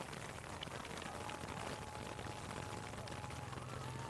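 Rain falls steadily during an outdoor homecoming parade, a constant broadband hiss of drops on surfaces with faint crowd and activity sounds mixed in beneath it.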